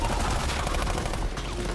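Sustained gunfire in Saints Row: The Third, dense rapid bursts of shots blending into a continuous loud rattle with no pauses.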